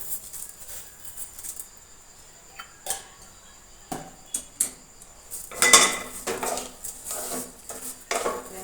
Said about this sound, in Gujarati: ખાંડ ઓગળે ત્યાં સુધી આપણે તેને હલાવતા રહેવાનું છે